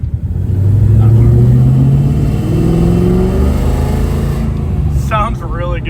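A Fox Body Mustang running a swapped-in GT500 engine hums loudly nearby with a steady rising drone that swells and eases, followed by brief talking near the end.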